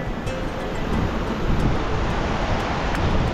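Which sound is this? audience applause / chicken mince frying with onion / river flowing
river flowing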